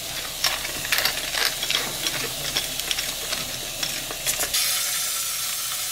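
Glazed chicken sizzles in a hot pan with a steady frying hiss. Intermittent scraping and clicking of utensils runs over it, and a brief louder burst comes near the end.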